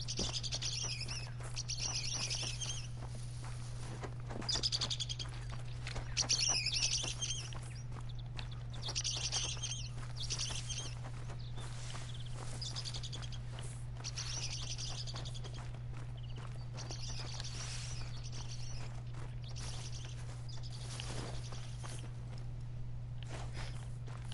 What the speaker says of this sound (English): Really want to shoot that freaking bird.